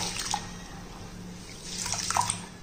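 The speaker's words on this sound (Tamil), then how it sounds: "கம்பை நல்லா பிசைஞ்சு விட்டோம்னா கம்பில் உள்ள டஸ்ட்டுகள் பூரா நல்லா நம்மளுக்கு தண்ணியில் வந்துடும்" Pearl millet is kneaded by hand in a bowl of water to wash it, giving soft, close sloshing and squelching that builds a little toward the end.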